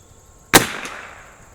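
A single sharp crack from an Anschutz 54 match rifle firing RWS ammunition, close and loud, with a brief echo trailing off in a quiet setting.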